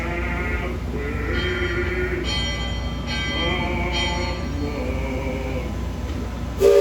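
Bell aboard the Liberty Belle, a steam-styled theme park riverboat, rings out in a few sustained metallic tones over a steady low engine and crowd hum.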